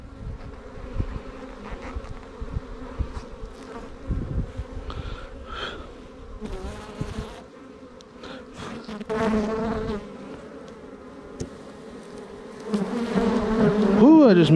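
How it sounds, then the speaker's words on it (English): Dense buzzing of many honey bees swirls close around a hive, rising and falling in waves, with a few faint human sounds mixed in. "I've never seen this much bees with this hive"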